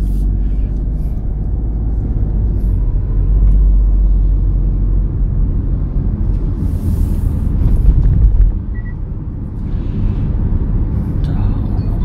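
A car in a driving-test course pulls away after being put into gear, with a steady low engine and road rumble building gently, some wind noise over the microphone, and a brief swell before easing.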